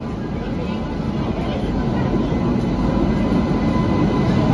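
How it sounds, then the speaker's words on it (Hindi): Express train 14115 from Dr Ambedkar Nagar to Prayagraj Junction rolls into a station platform with a loud, continuous low rumble, and voices are mixed into the noise. "চলে আসছে ট্রেন নাম্বার 14-11-5 ডক্টর আম্বেদকরনগর থেকে প্রয়াগরাজ জংশন।"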